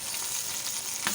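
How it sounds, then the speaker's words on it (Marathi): Cumin seeds sizzle in hot oil with a steady, bright crackling hiss that holds for about a second, with a brief louder burst near the end. "तेलमध्ये ना थोडंसं जिरं घालूया"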